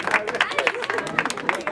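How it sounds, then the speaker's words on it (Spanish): Brief burst of audience clapping at a quinceañera celebration, close and irregular, with crowd murmur mixed in. "El aplauso para él, por favor"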